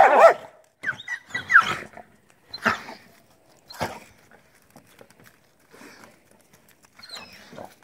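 A jealous dog barks and whimpers in short irregular bursts, close and fairly loud, with quieter yips and pauses between them.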